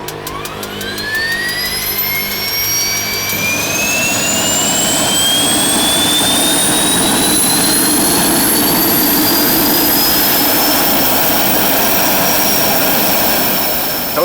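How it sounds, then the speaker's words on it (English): An L-39 jet engine spools up from a low rumble into a loud, steadily rising whine that climbs in pitch and then settles into a sustained high roar, close by and continuous with no talk. "Something about the sound of a jet engine starting"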